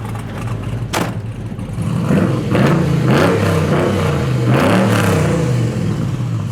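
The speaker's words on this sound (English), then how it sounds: "I love the exhaust. Yeah, that side cut exhaust." A 1971 Chevrolet C10 pickup with side-cut exhaust revs loudly and close by, its deep engine rumble rising and falling through several throttle blips over a steady idle.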